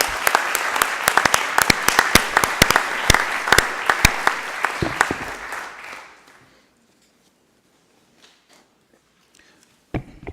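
An audience applauds winners at a college district board meeting, a burst of crisp, close claps lasting about six seconds before dying away into near silence with a few stray sounds.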